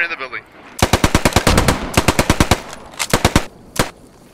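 Machine gun fire in the World War II shooter Post Scriptum, loud close bursts of rapid evenly spaced shots, a long burst then shorter ones and a final single shot, alone without voices.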